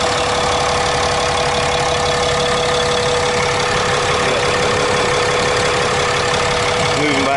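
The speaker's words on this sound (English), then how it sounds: "turbo diesel Cummins" A Ram 2500 crew cab 4x4 with a 6.7-liter Cummins turbo diesel idles steadily nearby, a constant rattly clatter with a faint high whine running throughout.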